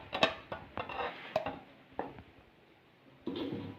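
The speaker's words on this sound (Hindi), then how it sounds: "देखें मैं आपके सामने डिश आउट करता हूँ।" Spoon clinking against a cooking pot and dish while chicken korma karahi is served out, a handful of sharp metallic taps at uneven intervals, close and fairly quiet, with a soft scraping stir near the end.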